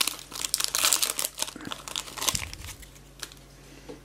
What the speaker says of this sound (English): I cannot open them with my hand, I have to use scissors.